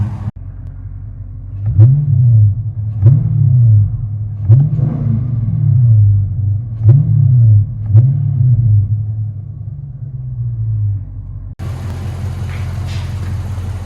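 A 2017 Dodge Challenger Scat Pack with the 6.4-litre V8, dual exhaust and deleted resonators sounds a deep idle, then gets about six sharp throttle blips in a steady series. Each one rises to a loud rumbling bark and falls back. A louder hiss of wind or handling noise cuts in near the end.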